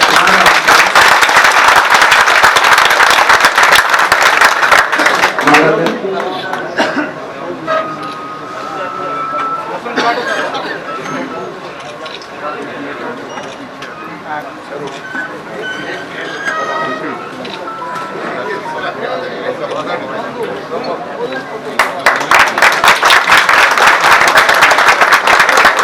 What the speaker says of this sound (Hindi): सबके लिए एक बार ताली हम बजा के स्वागत करें।